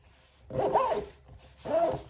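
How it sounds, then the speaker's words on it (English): Zipper on a Staccato pistol carrying case being pulled closed in two quick strokes, a short pause between them, close and fairly loud. "if I zip it back up here"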